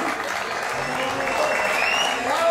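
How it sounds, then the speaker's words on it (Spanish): Applause from spectators at a speed racing championship trophy ceremony as a podium finisher steps up, a steady moderate clapping wash with faint whistles and background voices. "Un fuerte aplauso para ella"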